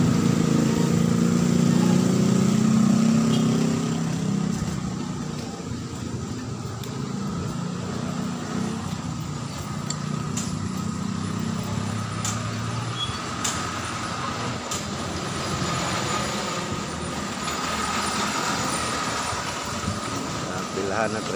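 Idling motor tricycles queued on a street near a market, a continuous low engine rumble with intermittent revving, mixed with general street noise while someone talks over it throughout.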